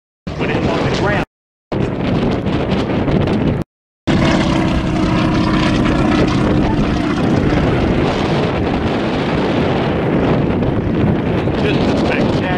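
A B-25-type propeller military bomber flies by at an air show in Texas, its loud droning engines and wind buffeting sustained throughout, briefly cut by gaps, with a voice talking over it.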